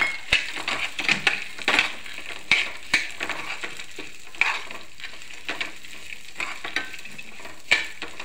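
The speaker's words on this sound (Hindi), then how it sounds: "थोड़े थोड़े आस्ता आस्ता रोस्ट करूँगी। मैं मुझे 3-4 मिनट लग जाएंगे मूंगफली डालते।" Peanuts roast slowly in a pan with spices, giving a steady dry sizzle broken by scattered crackles and sharp stirring clicks, close and continuous with no voices.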